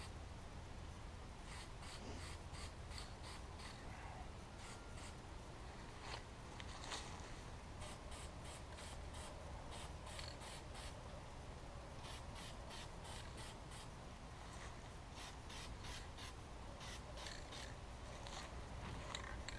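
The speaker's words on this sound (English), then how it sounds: "Let's keep spraying leaf patterns." Black spray paint hissing through a leaf-shaped stencil in steady bursts, with short pauses between passes, close and continuous for about twenty seconds with no talking.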